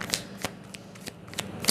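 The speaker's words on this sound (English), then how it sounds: "as I shuffle the cards" Tarot cards being shuffled by hand, a handful of quick crisp riffling bursts spaced irregularly, close and fairly soft, with no talking.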